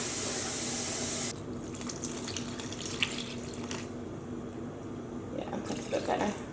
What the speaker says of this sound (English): I am going to add, I think, approximately 4 more cups of water to each of these dye baths